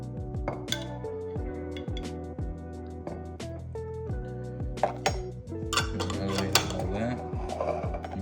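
Sriracha and pickle juice are stirred together into a spread in a bowl, with repeated light clinks and scrapes of a utensil against the dish beneath continuous background music.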